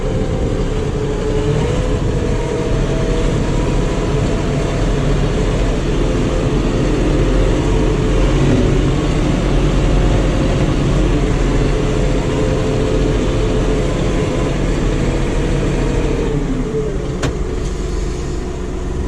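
A tractor engine runs steadily while the tractor is driven out for pasture cutting, giving a loud, unbroken diesel drone with a heavy low rumble for the whole stretch.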